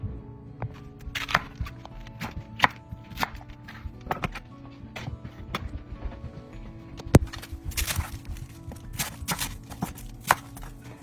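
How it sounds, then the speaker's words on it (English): A knife chops cabbage on a cutting board in quick, irregular thuds close by, steady rhythmic knocks with brief pauses and no speech. "Okay, so we've got both of our little cabbages cut up."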